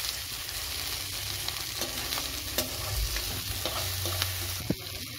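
Green chillies, tomato and garlic fry in a pan for ridge gourd gojju, a continuous oily sizzle broken by scattered scrapes and stirring clicks, close and steady with no talking.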